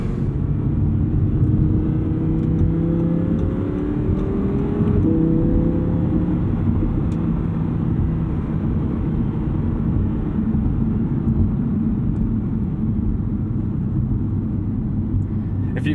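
A car engine drones steadily while the car is driven, giving a continuous low rumble of road and engine noise that shifts slightly in pitch as it accelerates.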